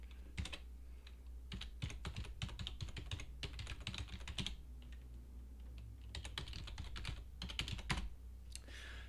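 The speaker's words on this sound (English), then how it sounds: "I'm going to type in a fake address here" An email address is typed on a computer keyboard in quick, irregular clusters of crisp keystrokes with short pauses between them, heard close over a low steady hum.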